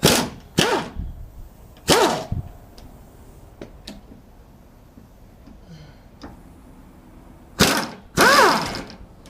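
A hand ratchet works on frame bolts under a vehicle during a V8 engine swap, giving a few loud, close clicking pulls in separate bursts with quiet workshop gaps between them.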